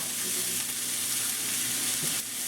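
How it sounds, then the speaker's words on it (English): A pat of butter melts into a hot pan with mushrooms, giving a constant close sizzling hiss with no break. "I am gonna add 1 pat of this butter now"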